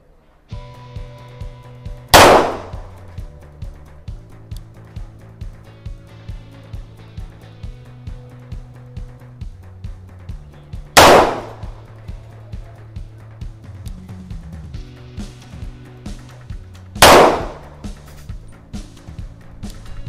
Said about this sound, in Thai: สัก5นัดระยะ10เมตรนะครับลองดูยิงไปที่ตรงกึ่งกลางนะครับของเป้า